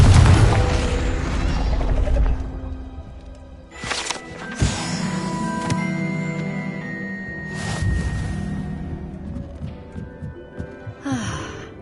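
The Confringo blasting spell goes off in a Harry Potter video game, a sharp whoosh then booming impacts and crackling bursts, with low rumbles and magical tones in between.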